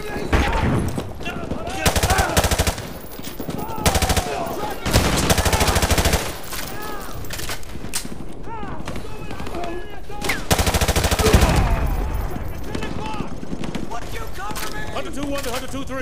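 Heavy automatic gunfire from Call of Duty: Modern Warfare II battles around a school, with dense bursts of rifle and machine-gun fire, loud and close at times, plus distant shots and shouted voices mixed in.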